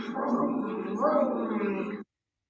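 A human voice imitates a quiet car engine with a low, steady hummed drone lasting about two seconds, close and soft, then stopping abruptly.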